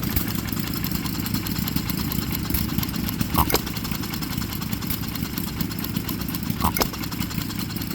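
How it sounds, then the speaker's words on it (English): A little John Deere hit-and-miss tabletop engine runs close by, giving a steady low mechanical hum with occasional crisp firing bursts a few seconds apart, alone without talking. "You like that little tabletop John Deere, Tyler?"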